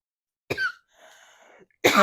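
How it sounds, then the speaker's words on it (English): Two sharp coughs, one near the start and another at the end, with a brief quiet breathy sound between them. "Sorry guys, I'm coughing"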